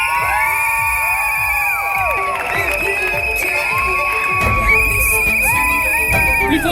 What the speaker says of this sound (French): Et on les applaudit chaudement!